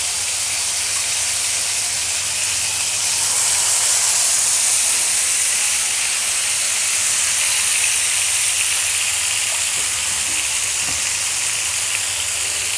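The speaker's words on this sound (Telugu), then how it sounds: "ఆయిల్ వేడెక్కిందండి. ముందుగా మనం మ్యారినేట్ చేసిన చికెన్ పీసెస్ని ఇప్పుడు ఇలా మొత్తం తీసుకొని ఈ విధంగా" Marinated tandoori chicken pieces sizzle in hot oil, a steady broad hiss and crackle that runs continuously and loudly with no talking over it.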